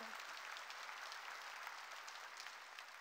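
A church congregation claps together in steady, dense applause at the pastor's call during a sermon, even and sustained throughout at moderate distance with no voices over it.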